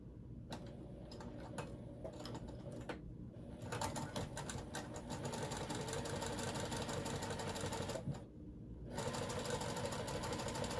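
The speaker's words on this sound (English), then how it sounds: "So I'm going to sew these two together," A sewing machine stitches fabric pieces for a water bottle bag in rapid, steady bursts, with brief pauses between runs, close and fairly loud.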